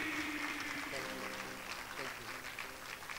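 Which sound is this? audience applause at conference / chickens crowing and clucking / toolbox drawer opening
audience applause at conference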